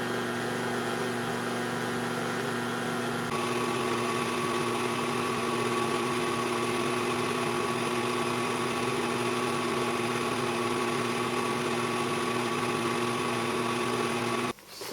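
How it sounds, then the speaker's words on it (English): An electric mixer whirs at medium speed through a vegan ice cream base of coconut condensed milk, a constant steady motor hum with a slight shift in pitch early on, running alone until it cuts off at the end. "Gonna mix it at medium speed."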